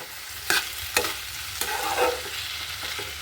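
Raw papaya bhaji fries in a pan with a soft, steady sizzle, punctuated by a few sharp scraping stirs of a spatula; no talking.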